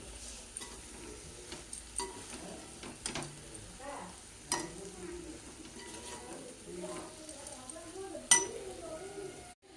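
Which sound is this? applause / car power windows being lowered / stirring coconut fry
stirring coconut fry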